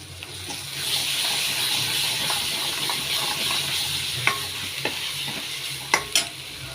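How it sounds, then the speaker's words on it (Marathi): An onion, coriander and tomato masala being stirred in a pan while frying for kaleji, giving a steady close sizzle with scraping spoon strokes and a few sharper clinks near the end, without speech. "आपण मिक्स करून घेणार आहोत. मसाला आहे कांदा कोथिंबीर टमाट्याचा."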